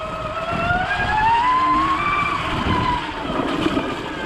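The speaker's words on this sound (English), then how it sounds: "Hear the clutch? So now I've got a bit of a clutch." An Electric Motion electric trials bike runs with its clutch engaged, giving a steady, fairly loud electric motor whine that rises and falls in pitch for several seconds with no talk over it.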